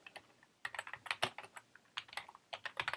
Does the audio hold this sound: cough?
no